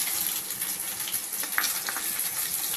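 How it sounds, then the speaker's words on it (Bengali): Minced chicken keema frying in a pan for a Bengali chicken keema egg biryani: a dense, continuous hiss of sizzling oil with a few faint stirring scrapes, close and steady, with no voices. "এবার আমি চিকেন কিমাটা দিয়ে দেবো"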